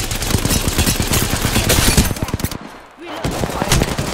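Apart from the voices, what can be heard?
gunfire from a video game shootout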